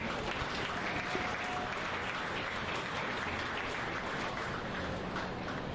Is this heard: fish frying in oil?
no